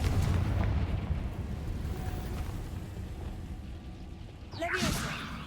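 In Hogwarts Legacy, the Confringo fire blast spell goes off near the end as a quick bright whooshing burst over a steady low rumble of game ambience and music.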